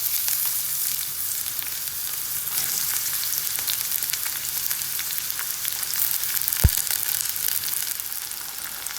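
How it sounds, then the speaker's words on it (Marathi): One chopped onion sautés in a spoonful of oil in a pan, making an even, continuous close sizzle with one sharp knock partway through. "कांदा आपल्याला 2 ते 3 मिनिटं परतून घ्यायचा आहे."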